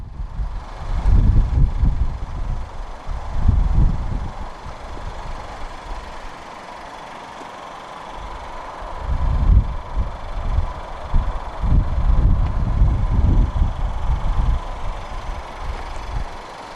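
A 2014 Audi A3 Sportback 1.4 TFSI engine idles steadily with a low, uneven rumble and soft knocking pulses, fairly close, no voices.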